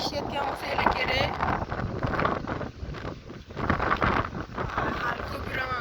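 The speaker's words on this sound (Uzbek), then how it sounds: "Shamol o'zinglar ham eshitgan bo'lsanglar kerak." Strong wind blows steadily outdoors near a river crossing, a broad rushing roar buffeting the microphone throughout with brief dips, and a voice speaks faintly underneath.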